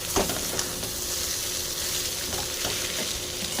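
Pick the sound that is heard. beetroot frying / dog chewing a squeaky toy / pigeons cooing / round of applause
beetroot frying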